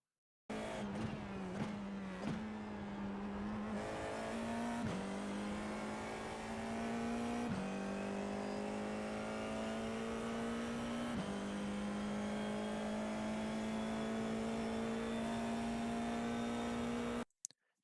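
An FIA F4 single-seater race car laps Circuit Gilles Villeneuve in Montreal, its engine holding a loud, steady high drone with brief dips and shifts at gear changes and corners, heard alone from start to finish.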